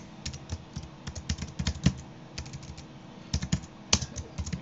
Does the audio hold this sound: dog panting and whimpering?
no